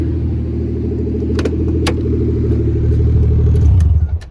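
A Nissan 240SX with a swapped 1JZ engine idles nearby with a loud, deep, steady burble, a few clicks over it, swelling briefly before cutting off at the end.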